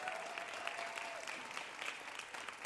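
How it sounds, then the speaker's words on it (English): Dense, steady applause from a live audience at a WoodSongs livestream show, honoring the volunteer crew, holding at an even level throughout with no voices standing out. "Please give the crew a big round of applause."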